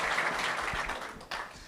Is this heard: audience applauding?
yes